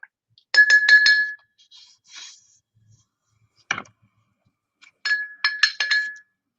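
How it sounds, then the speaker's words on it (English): A small metal bell rings in bright clusters of quick dings, loud and close, with a pause and a single clink between the bursts. "Ring that bell."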